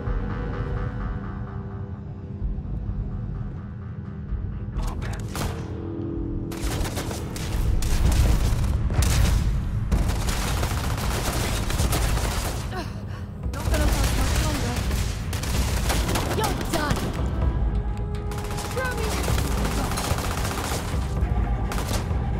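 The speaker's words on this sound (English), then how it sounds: "Who's firing at me?" Rapid bursts of gunfire and automatic weapon fire in the video game Starfield, with dense overlapping volleys and booms over a low hum, loud and close, with a voice speaking at times.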